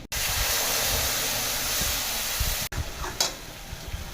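Long strips of eggplant, coated in turmeric and salt, fry loudly in hot oil in a pan, giving a steady close sizzle that breaks off briefly and then returns with a few stirring scrapes.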